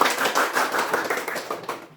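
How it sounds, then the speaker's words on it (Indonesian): A school class claps their hands together in a dense, fast patter of overlapping claps that fades out after about two seconds. "sudah tepuk tangan untuk kita"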